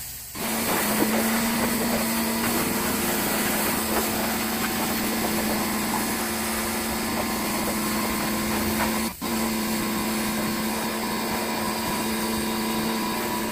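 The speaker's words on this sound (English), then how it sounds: "now I'm gonna go ahead and pressure wash everything, get all the rocks, dirt, debris out of there" A pressure washer sprays an old truck frame to clear rocks, dirt and debris, producing a continuous loud hiss over a droning motor with one brief break partway through.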